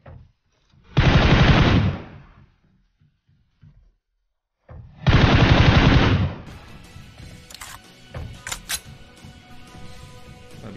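Two long bursts of rapid automatic gunfire from an online shooter video game, each loud and sustained for about a second, followed by scattered softer shots and clatter.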